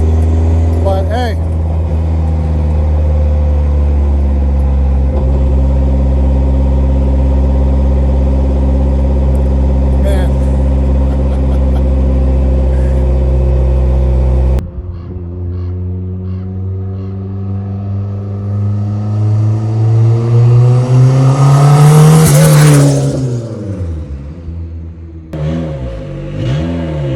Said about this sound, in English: I'm sure my neighbors are loving me right now running open exhaust.